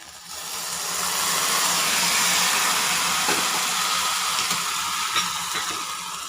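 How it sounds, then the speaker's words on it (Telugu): Ingredients for payasam fry in a pan until brown, a continuous broad sizzle that holds steady and fairly loud, with a few faint stirring clicks and no talk. "ఇది కూడా బ్రౌన్ కలర్ వచ్చే వరకు ఫ్రై చేయండి"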